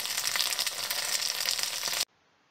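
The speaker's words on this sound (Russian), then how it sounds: "Я их слегка обжарю с двух сторон." Pollock fish cutlets fry in a pan, a loud, steady, close sizzle that runs for about two seconds and then cuts off abruptly.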